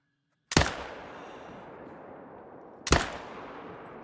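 Two sharp, loud .308 rifle shots in a deer-hunting video game, spaced a couple of seconds apart, each cracking sharply and then trailing off in a long, rolling echo over quiet surroundings.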